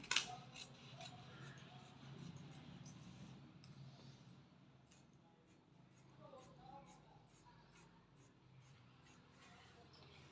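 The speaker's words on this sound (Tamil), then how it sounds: "ஒரு கட்டிங் போட போகிறேன்" Scissors snip through blouse fabric for aari work, a sharp cut at the start followed by quieter, soft shearing and faint clicks, with someone talking low over it.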